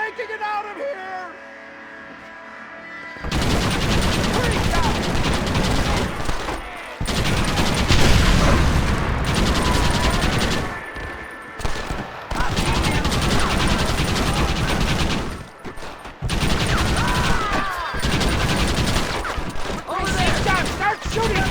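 A Gatling gun in the Western game Red Dead Redemption fires in long rattling bursts separated by short pauses, loud and close, with game voices talking between and under the gunfire.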